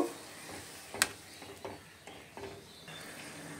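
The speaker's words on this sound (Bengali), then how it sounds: "আর একটু নেড়ে ছেড়ে দেব।" Kasundi tangra fish curry being stirred in a pan, with a few soft scraping clicks of the spoon and one sharper knock near the start over a faint background hiss.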